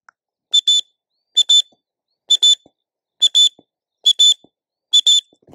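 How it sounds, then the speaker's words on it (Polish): A dog-training whistle gives six evenly spaced pairs of short, shrill blasts, each pair a quick double pip, loud and clear against near silence. "Wtedy dajemy szereg krótkich gwizdków, taką serię."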